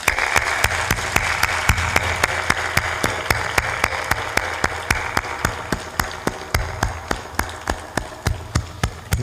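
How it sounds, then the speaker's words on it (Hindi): Audience applause at a devotional Kabir bhajan program, a crowd clapping in a steady, fairly quick rhythm that carries on throughout and slowly thins toward the end, heard without talk. "आप ताली बजा दो,"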